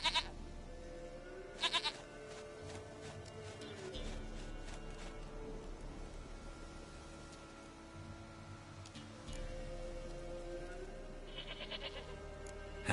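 A goat from the video game The Witcher 3 bleats in repeated wavering calls over steady in-game ambience, with the bleats fairly close and clear.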